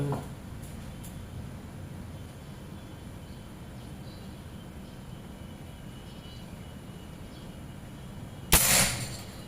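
A single sharp PCP air rifle shot cracks near the end, following a stretch of quiet outdoor ambience with a low rumble. Aluminium 38 mm tube rifle charged to 2700 psi, 30 cm seamless barrel, fired at bricks.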